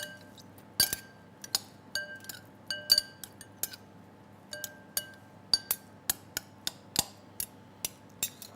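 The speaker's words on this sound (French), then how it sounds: "Et là, on va mélanger notre salade." Salad dressed with olive oil, balsamic vinegar and fleur de sel is tossed in a bowl, giving a run of bright glassy clinks and utensil taps that speed up toward the end, with no talking.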